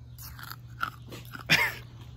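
A few crunchy bites into the chunky ice of a snow cone, faint and close, with a sharper crunch near the end and no talking.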